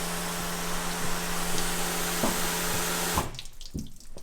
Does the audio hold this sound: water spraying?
yes